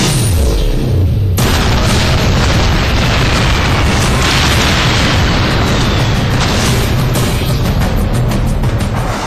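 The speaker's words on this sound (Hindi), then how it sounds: "विमान से छूटते ही बम के ये गोले हवा में लहराते हुए लक्ष्य की ओर बढ़ते हैं और चंद सेकंड में पूरा इलाका धुआं धुआं हो जाता है" Bombs dropped from a fighter jet exploding on a target, a loud continuous roar of blasts and rumbling across the whole stretch with a sharp burst early on, heard up close without speech.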